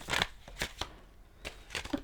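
Oracle cards from an Affairs of the Heart deck are shuffled in a few quick riffling bursts, close and crisp, separated by short quiet gaps.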